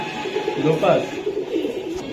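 A pigeon, a Kaldom breed, coos softly in low, rolling murmurs, close by, with a faint background hum.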